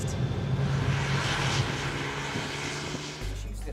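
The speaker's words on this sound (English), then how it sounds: "I will never tire of a loud sports exhaust." A loud sports car exhaust drones steadily with a deep, rumbling engine tone that slowly eases, then drops to a lower hum, with no talking over it.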